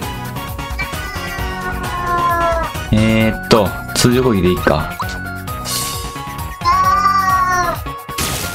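A cat meows a few times in the room during a Super Mario RPG play session, the short cries mixed with game music and sound effects while someone talks over them.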